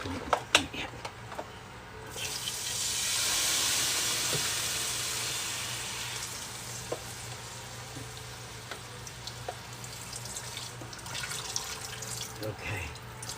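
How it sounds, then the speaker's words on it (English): Beef broth poured into a hot pan of caramelized onions for French onion smothered chicken, giving a steady hiss and sizzle that swells and then slowly fades, with occasional utensil clicks and people talking. "now we have got to put our beef broth in here, right?"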